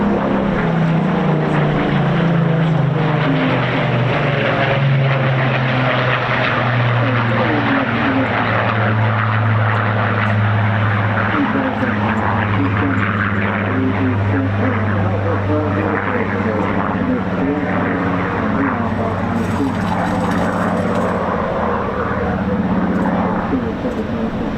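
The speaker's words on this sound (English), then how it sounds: "Listen to this Griffin-powered Spitfire." A Griffin-engined Supermarine Spitfire passes at the Eastbourne International Airshow, its loud, steady propeller-engine roar sustained throughout with a deep droning tone and a slight rise in pitch late in the pass.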